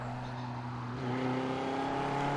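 Rally car in the racing game Assetto Corsa Rally tearing past, a loud sustained engine drone with steady harmonic tones that shifts upward partway through, no voices.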